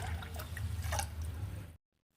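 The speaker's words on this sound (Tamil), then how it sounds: "அதனால் மொத்தமாக 4 ஆழாக்கு தண்ணி விட்டால் கரெக்டாக இருக்கும்." Water pours steadily into a pressure cooker while Tamil-style pongal is being prepared, a continuous close splashing trickle lasting under two seconds and then stopping abruptly into silence.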